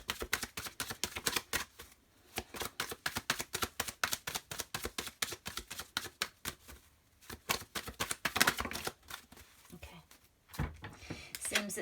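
Rapid, rhythmic riffling of tarot cards being shuffled close up, in repeated bursts with brief pauses between.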